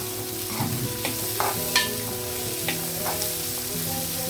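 Onions and carrots fry in a pan for flattened-rice pulihora while a spoon stirs them, giving a steady close sizzle broken by several sharp scraping clicks against the pan, with no talking.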